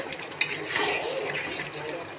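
Spice-mixed water pours and splashes into a pan of frying chicken, a brief liquid gush with a small clink near the start, moderately close and fairly quiet.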